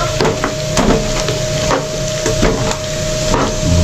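Garlic frying in cooking oil, a steady loud sizzle with crackling pops and occasional scraping stirs, close up, with no voices.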